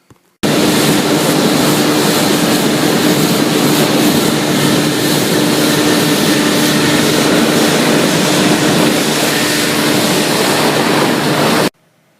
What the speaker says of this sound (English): Saw that plane coming in land just before